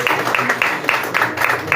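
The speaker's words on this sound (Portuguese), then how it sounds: "Uma salva de palmas" A church congregation claps together in a steady rhythmic round of applause, brisk regular claps filling the room, loud and close throughout the short moment.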